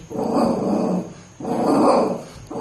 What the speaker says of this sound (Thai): ช่วยกันเห่าใหญ่เลย